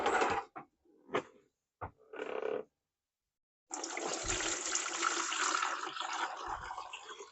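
Cooked potato water drained from a pot into a bucket, first a few short splashes and pours separated by pauses, then a long continuous gush of water splashing into the bucket.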